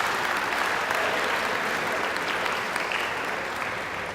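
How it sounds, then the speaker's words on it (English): Sustained audience applause at a student awards ceremony, a dense wash of many hands clapping at a loud, even level for several seconds. "let's give him a big round of applause."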